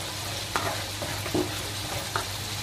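Salted masala for palak paneer fries in a pan with a soft, even sizzle. A few distinct stirring scrapes and taps stand out at intervals against it.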